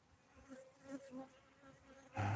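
Bees drone steadily around a beekeeper, fairly faint, with a few closer swells of buzzing before a sudden louder burst of noise at the end.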